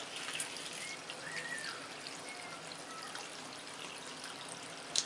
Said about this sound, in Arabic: يعني بغطيها بالميه